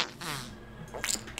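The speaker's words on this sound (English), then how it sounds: "I'm sorry, but Papa got a fart." Comedic fart noise, a short wet spluttering burst followed by a brief rasping tail, close and alone.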